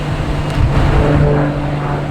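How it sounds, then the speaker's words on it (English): A Delta Embraer E175 airliner comes in to land at Boston Logan Airport from LaGuardia, a loud, steady jet engine roar close by with no break in it. "There's a Delta coming in from LaGuardia, E175."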